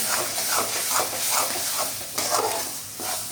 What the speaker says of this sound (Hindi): थोड़ा सा हम इसमें पानी ऐड कर लेंगे बीच में और फिर फ्राई करेंगे